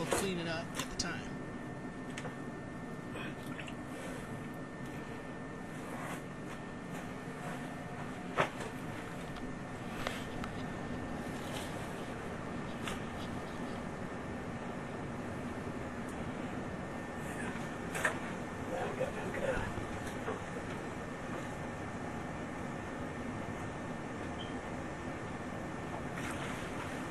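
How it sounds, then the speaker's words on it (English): A sump pump, newly plugged in, discharges water out of a sump pit during a pump upgrade installation, giving a steady, rushing, water-like wash that runs continuously at an even level, with a few faint clicks and knocks. "the sump pump has been plugged in, and the water is starting to"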